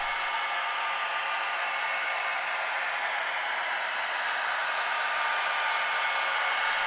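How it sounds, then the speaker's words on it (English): Rio Grande Train 708, a model train led by four SD40T-2 tunnel motor locomotives, pulls out of North Yard on a layout, giving a steady, even hiss-like rolling hum that holds at constant loudness throughout with no voices. "Rio Grande Train 708 departs North Yard and moves through Denver."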